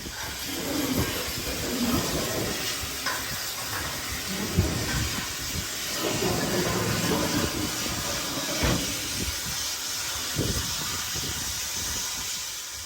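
A Cumbres & Toltec steam train runs on the climb toward Cumbres Pass, giving a steady close roar of steam, hiss and rolling rail noise with occasional louder chuffs and clanks throughout.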